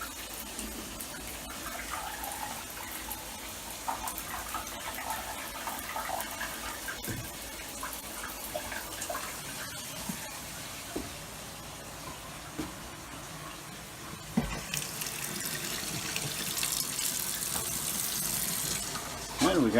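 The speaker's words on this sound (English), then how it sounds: "The shower's working fantastic." A shower runs in an RV trailer: a steady hiss of spraying water that swells louder and brighter toward the end, with some faint background movement underneath.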